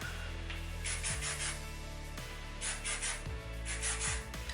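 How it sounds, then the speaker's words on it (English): Several short hissing bursts of aerosol hairspray, each lasting about half a second, close by over a low steady hum. "So what I'm gonna do is I'm gonna hairspray a little bit."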